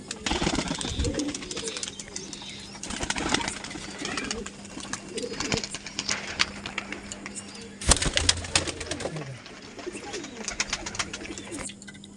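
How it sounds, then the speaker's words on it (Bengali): Large Laljiria pigeons, big-bodied birds, coo in repeated throaty rolls, close by, with several overlapping calls and a brief flurry of movement partway through, steady cooing carrying on throughout. "খুব বিগ সাইজের পায়রা আর একদম বেজি শেপের পায়রা,"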